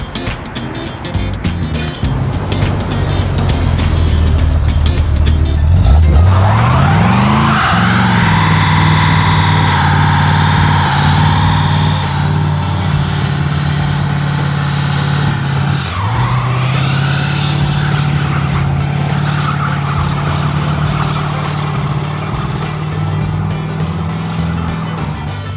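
A 1963 GMC truck doing a burnout, the engine revving hard and climbing in pitch, then settling into a sustained loud roar with tire squeal, dipping and rising again partway through.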